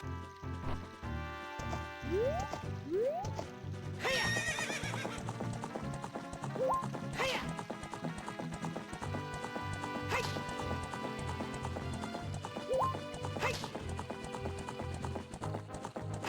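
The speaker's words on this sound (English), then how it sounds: "Let me get on my horsey." Horse sounds from The Legend of Zelda: Ocarina of Time, with repeated rising whinnies over a steady clip-clop of galloping hooves, set against game music and effects.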